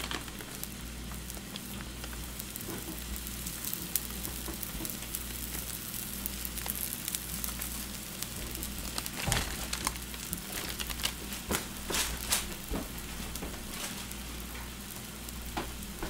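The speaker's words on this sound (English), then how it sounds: "So they can see it cooking on the grill" Homemade biscuits sizzling on a grill, a steady close crackle and hiss with scattered sharp pops and ticks throughout, no voices.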